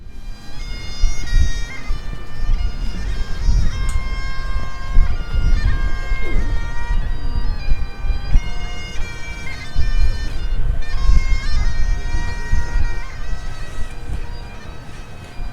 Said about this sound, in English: They've started the bagpipes.